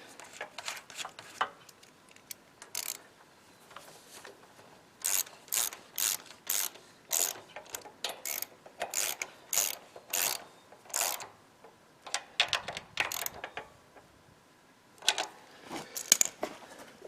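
Nuts ratcheted back onto a Honda GX200 clone engine, a series of quick, crisp ratchet-wrench clicking bursts with brief pauses between, close and fairly quiet.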